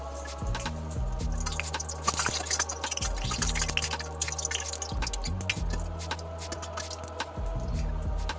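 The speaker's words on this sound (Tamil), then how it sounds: "இப்போ பிரெட்டை ஃப்ரை பண்ணி எடுத்துக்கலாம்" Bread slices fry in hot oil for bread halwa, sizzling and spitting continuously with bursts of crackle as pieces go in, close and fairly loud.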